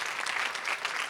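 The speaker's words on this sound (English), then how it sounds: "Let's give Elton a round of applause for doing a great introduction." An audience claps steadily for an introducer at an empowerment day event, a brief even burst of applause with no talk over it.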